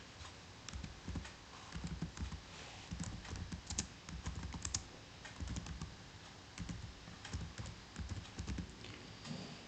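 Computer keyboard typing, a steady run of close, busy key clicks and clatter lasting the whole stretch with no pauses and no speech.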